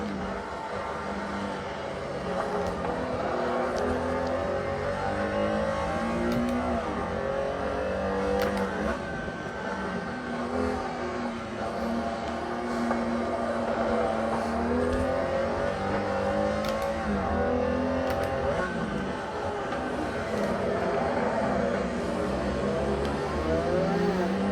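Slot cars racing on a track, a Porsche 1976 Trans Am model, a continuous whining electric motor that rises and falls in pitch through the laps, steady and close.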